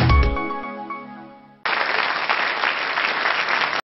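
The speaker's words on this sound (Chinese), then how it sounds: "来，掌声有请。" Studio audience applause welcoming a magician on a talent show, a loud, even burst of clapping that starts abruptly after a fading musical sting and cuts off sharply at the end.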